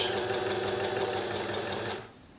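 A serger overlocker runs in one steady, loud, fast mechanical whir for about two seconds, then cuts off sharply, leaving only a quiet hum; no one speaks.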